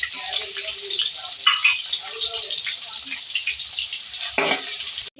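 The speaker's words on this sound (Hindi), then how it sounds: "ये ऑयल है, इसमें जो है प्याज ऐड करेंगे, इसको फ्राई करेंगे।" Onions fry in hot oil in a pan, producing a loud, steady, close hiss with brief stirring bursts and a clatter near the end.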